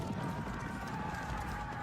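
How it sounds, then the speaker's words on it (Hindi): Cavalry horses clatter past with steady, dense clip-clopping hooves under a thick layer of battle din and music, loud and continuous throughout. "Humans ride into battle on horseback for the first time."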